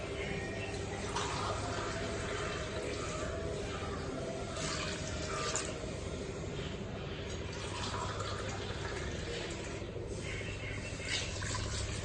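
Water is poured into a cooking pot of South Indian brinjal kara kuzhambu, a steady splashing and trickling that runs on for several seconds with small surges, close by.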